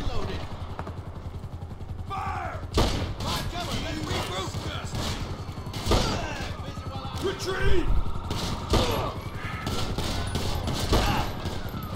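Gunfire in Grand Theft Auto V: loud, close bursts of rapid shots and scattered single cracks, mixed with game effects and someone talking and shouting over them.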